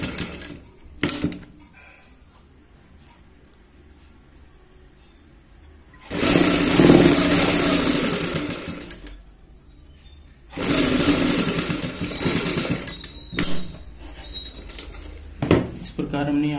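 Sewing machine stitching a neck strip onto a kurti, running in two sustained bursts of rapid whirring with quiet pauses between and a few short clicks, close and loud.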